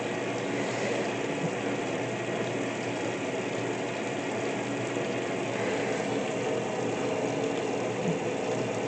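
Maytag top-load washer filling with water during the rinse, a steady loud rush of spraying water running without a break and no voices.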